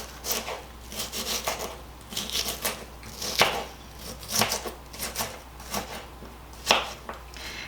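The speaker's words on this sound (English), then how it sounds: "Everybody cuts an onion different" A knife chopping through an onion on a cutting board for a burrito casserole, with irregular knocks and short scraping strokes in uneven bursts, close and moderately loud, without talk.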